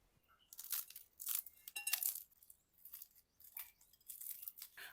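Freshly baked Turkish börek with meat filling, hot from the oven, gives a series of soft, crisp crunches and crackles in short bursts, close and quiet, with no voices.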